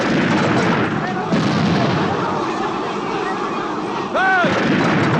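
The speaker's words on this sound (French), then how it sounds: "Premier canon! Feu!" Cannon fire in a battle scene, heavy booming blasts rolling over one another in a dense, continuous barrage with a brief shouted command rising above the din near the end.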